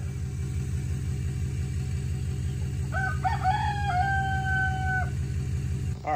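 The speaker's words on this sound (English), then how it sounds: "And the rooster can still crow." Rooster crowing once in the middle distance, a drawn-out call over the steady rumble of an idling vehicle nearby.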